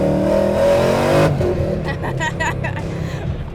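A supercharged 2014 Mustang GT with a Vortech supercharger accelerating hard, its engine roaring and rising in pitch, then shifting to a rougher, pulsing drone with a rising whine, loud and close throughout.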